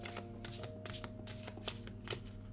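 Oracle cards shuffled and drawn by hand during a spiritual reading, a soft continuous papery riffling and flicking up close over a steady low hum, with no talking.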